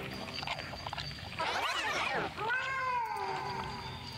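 A cat meows twice in a video game, first in a loud rising-and-falling cry and then in a longer wavering meow, both close and clear over a steady low background hum.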